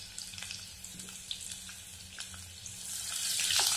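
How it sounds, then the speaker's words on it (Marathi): Mustard seeds, cumin, curry leaves and coarsely crushed garlic frying in hot oil for a toor dal amti, giving a steady sizzle with scattered crackles and pops that grow louder toward the end. "आपण हे छान लसूण खरपूस तळून घेणार आहोत।"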